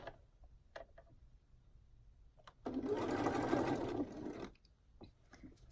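A sewing machine stitches reversible bikini swim fabric in a steady whirring run of about two seconds, framed by quiet handling clicks and soft fabric movement before and after.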